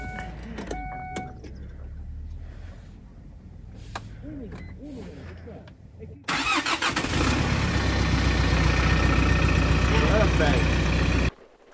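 A car engine cranks and catches on the first attempt, then settles into a loud, steady run close by; talk and small handling noises come before it.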